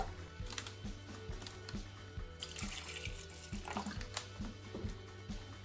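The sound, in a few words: pouring warm water into spray bottle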